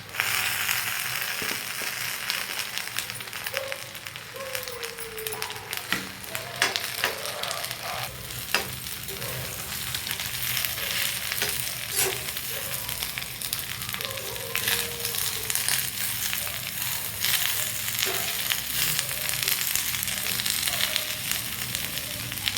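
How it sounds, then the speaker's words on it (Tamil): Ridge gourd peel and coconut sautéing in a pan, a steady close sizzle and crackle with occasional scraping stirs running throughout, no talk. "வதங்கினதுக்கப்புறம் இந்த பீர்க்கங்காயோட தோல் இருக்குது பார்த்தீங்களா, இதையும் சேர்த்து நல்லா வதக்கிக்கலாம்."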